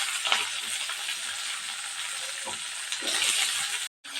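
Onions frying in a pan for a dried fish curry, a steady soft sizzle with occasional stirring scrapes, moderately quiet and close.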